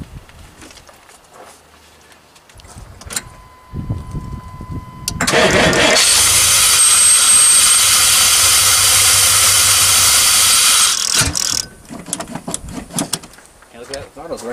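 An old truck that has sat for 12 years cranks with rough, uneven engine turns, then catches into a loud, steady roar with hiss for about six seconds before cutting out. Voices are heard around the attempt.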